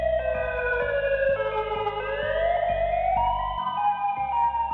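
An EOWS212 electronic siren sounds continuously with shifting, warbling tones, loud and steady with no voices.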